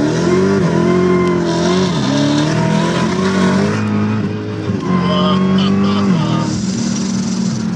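A car accelerates hard with a loud, sustained engine roar and harmonic rises, its tyres spinning and smoking, while people talk over it throughout.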